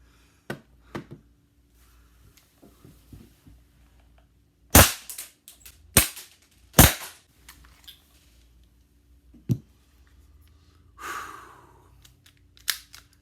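Suppressed airsoft Makarov pistol: a handful of sharp, dry pops, several spaced a second or so apart, each followed by a brief mechanical clack, set against near silence.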